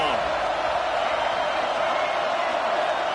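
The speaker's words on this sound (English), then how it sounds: "This crowd ready to make its presence known." Steady, dense stadium crowd roar from the College Football 26 video game, a broad wash of noise holding at an even level throughout with no distinct cheers or voices standing out.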